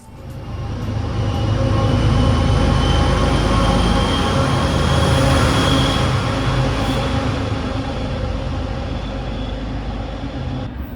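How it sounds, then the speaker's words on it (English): An MBTA commuter rail train pulls away from Quincy Center station, a loud, close rumble of wheels and engine that builds within the first two seconds, holds steady, then slowly eases as it departs. "Bye bye train."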